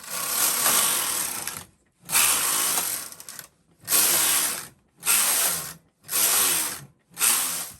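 A Brother KH-270 knitting machine carriage knitting plain rows, heard as loud mechanical clattering, ratcheting passes of about one to one and a half seconds each, separated by short silences, with six passes in steady rhythm and no talking.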